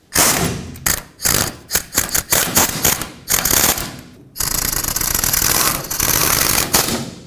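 A ratchet snugs down the wheel hub bolts on a 1997-2003 Ford F-150, giving bursts of close, rapid clicking. Short pauses separate the bursts, and a longer continuous run of clicks comes near the end.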